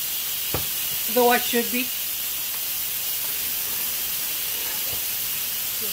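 Steam hisses steadily as pressure is released from an Instant Pot cooking smoky butternut squash and apple soup; a continuous, fairly loud hiss runs throughout, with a person briefly speaking over it.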